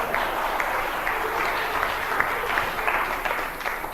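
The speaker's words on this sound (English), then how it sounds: "Give her a round of applause." Steady round of applause from an indoor audience at a church fund raiser, moderate in level and lasting the full stretch with a few sharper claps standing out.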